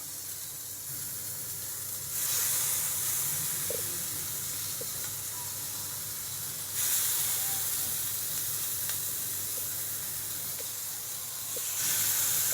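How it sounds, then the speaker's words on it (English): Steady hiss of skewers sizzling in a hot pan, swelling louder in bursts as more pieces go in, with faint clinks now and then. "the pan is nice and hot, so you can hear the sizzles and the smoke come up"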